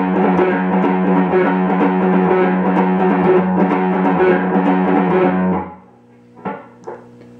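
An electric guitar plays a two-note string-skipping riff. The tone is loud, distorted and driving for about five seconds, then the notes stop and a couple of brief string or handling noises follow.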